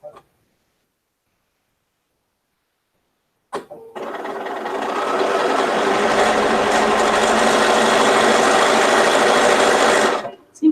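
A sewing machine runs fast and steady for about six seconds while stitching over double quilt seams, revving up after a short start and stopping abruptly, loud and close with no talk over it.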